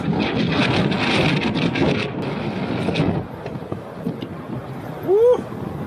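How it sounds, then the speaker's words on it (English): Strong wind buffeting the microphone at the Grand Canyon, a loud, rough roar for about three seconds that then eases into a lighter gusty rumble with a brief high whistle near the end. "It's powerful wind!"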